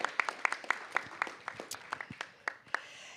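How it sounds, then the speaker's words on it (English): Sparse applause at a city council meeting, a handful of distinct claps in a loose, uneven rhythm, fairly faint and close. "Let's give the Alliance members a round of applause"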